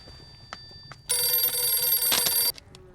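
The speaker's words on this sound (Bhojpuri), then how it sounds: "फोन बजता।" A telephone rings with a bright, electronic trill held steadily for about a second and a half, loud and close. Faint background sounds come before and after it.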